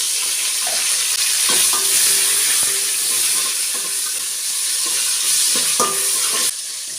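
Green chillies and curry leaves fry in a pan with a steady, loud hiss and sizzle, and a spoon scrapes and stirs a few times over the bubbling oil.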